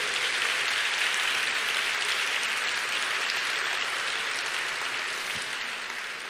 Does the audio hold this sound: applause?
yes